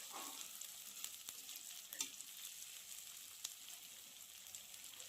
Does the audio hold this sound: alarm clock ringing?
no